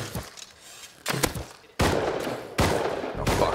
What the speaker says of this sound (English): He's gonna shoot us, so be careful.